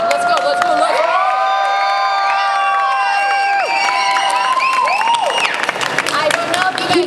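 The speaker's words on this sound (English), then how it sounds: "I'm gonna need you to clap. I'm gonna need you to scream." A convention panel audience at Ccon 2024 screams, whoops and claps loudly and continuously, with many high shrill voices overlapping in a close, dense roar.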